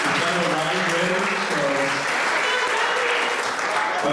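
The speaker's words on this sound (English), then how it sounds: "big round of applause for Dr. Kutac" An audience at a dementia Q&A event in Laredo claps loudly and continuously, a dense, sustained round of applause filling the whole stretch, with faint voices mixed in.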